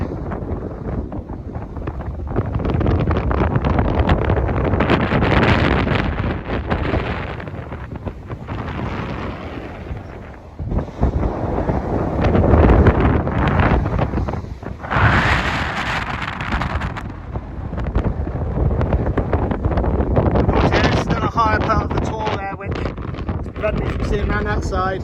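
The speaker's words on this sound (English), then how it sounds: "it's quite windy up here" Strong gusting wind on an exposed tor buffets the microphone with a constant loud roar and rumble, while a person talks intermittently underneath it.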